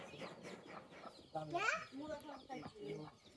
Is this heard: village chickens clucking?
yes